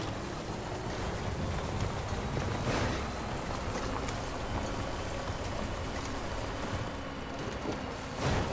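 Steady timefall rain hisses without a break in the video game Death Stranding, a soft, even wash of falling water with no voices over it.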